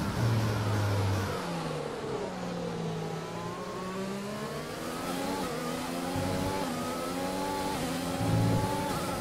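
Formula 1 car engine in the F1 2020 racing game at Bahrain, a loud continuous whine rising and falling through gear changes and revs, running steadily close up for the whole stretch with no talk.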